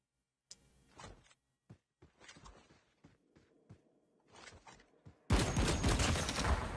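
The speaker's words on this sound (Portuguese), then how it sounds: "Olha o som de disparo dessa bagaça, mano." Legendary XPR sniper rifle firing in Call of Duty Mobile, with several short, sharp shots scattered across the clip and ending in a sustained, loud burst of gunfire.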